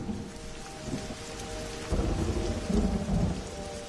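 A sudden desert downpour pours down steadily while deep rumbles of thunder roll in and swell louder midway.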